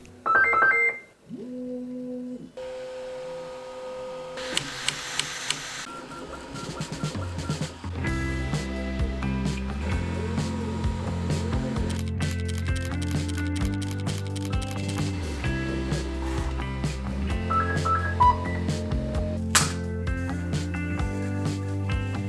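A 3D printer printing: mechanical whirring with shifting stepper-motor tones, a few short beeps at the start, then a continuous buzzing hum that changes pitch as it works.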